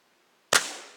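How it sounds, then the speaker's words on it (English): A single sharp pellet shot from a CO2-powered 2240 carbine air rifle fired at pop can and shot shell targets, a crisp close crack after near silence, with a short decaying tail. "First few shots with the CO2 are very powerful."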